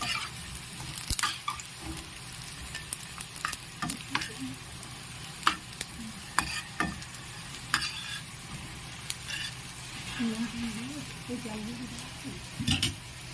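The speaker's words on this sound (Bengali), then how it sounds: "একদম লাল লাল করে ভেজে নেব।" Poppy seed fritters (posto bora) fry in hot oil, a soft sizzle broken by sharp stirring and spatula clicks, with a little talk in the background.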